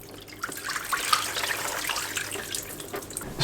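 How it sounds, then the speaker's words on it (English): Water pouring out of a tipped Costco humidifier base, a steady splashing, gurgling flow close by that runs continuously. "So we're going to go ahead and tip the unit this way and drain out all the water."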